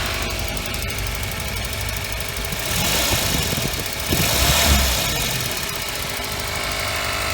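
A turbocharged Volvo engine idling, a steady, rough mid-pitched rumble with a faint knocking vibration, heard up close and alone, swelling briefly in loudness twice midway.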